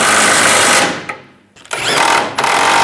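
Power tool tightening bumper nuts on a 2007-2013 Chevrolet Silverado 1500 rear bumper end, loud close whirring bursts that wind down, pause briefly, then resume with a steady high whine.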